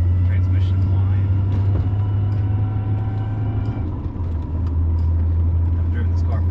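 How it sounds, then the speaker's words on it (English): A 1993 Nissan Skyline heard from inside while driving, with a steady low exhaust and engine drone, a faint higher transmission whine and a brief dip as the revs change, under someone talking. "we'll see how that sounds with the exhaust slash my talking slash engine whine, transmission whine."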